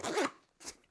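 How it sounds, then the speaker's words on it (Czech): Two quick zipper pulls on the two-way zippers of an Eberlestock FAC Track V3 military backpack: a longer rasping zip followed by a shorter one after a brief gap, close and clear with no talk. "obě plnění jsou řešená pomocí dvoucestných zipů"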